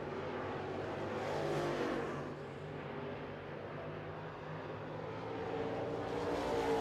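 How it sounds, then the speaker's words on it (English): Late model race cars racing at Smoky Mountain Speedway in a heat race. A continuous roar of several engines at a distance, swelling and fading slightly as the pack circles the track. "White flag delivered to Ford."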